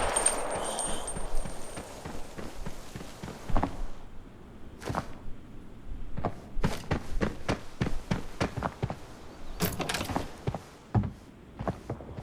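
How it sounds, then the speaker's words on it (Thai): Footsteps below the player in the Arena Breakout video game, on a farm map near a motel, heard as a series of sharp, irregular thuds and scuffs at moderate distance over a quiet background. "แล้วก็ได้มีเสียงเท้าข้างล่างเราครับคุณผู้ชม"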